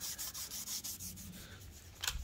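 A Scotch pad scrubs the piston tops of an Audi engine soaked in WD-40 and Seafoam during a cylinder head overhaul, making rhythmic rasping strokes close up, a quieter pause, then a harder scrape near the end.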